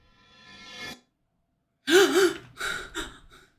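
A frightened person gasps sharply and breathes shakily after waking from a nightmare: a soft breath, a pause, then a loud gasp followed by several quick, trembling breaths, close and alone.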